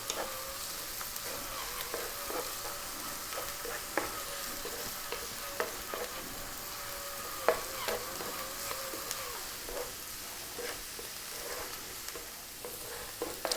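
Pesto pasta ingredients with chopped olives, salt and black pepper tossed in a hot frying pan, giving a steady sizzle broken by repeated scraping, stirring clacks throughout.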